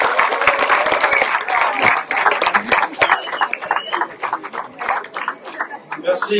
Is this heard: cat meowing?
no